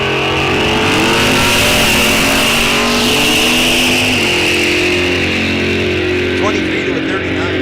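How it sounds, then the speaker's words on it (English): A Pontiac Firebird drag car launches down a bracket-racing strip at Rock Falls Raceway, the engine loud and close, rising in pitch as it pulls away, with a track announcer talking over it. "Firebird coming out"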